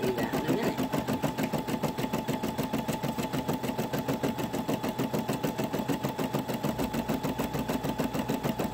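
An embroidery machine stitches a hummingbird design, its rapid needle strokes pulsing in a steady, even rhythm throughout, loud and close with no talking over it.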